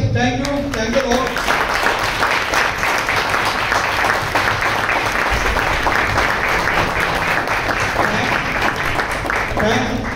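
An audience at a business launch event claps in sustained, dense applause, loud and close, with a voice briefly over it at the start.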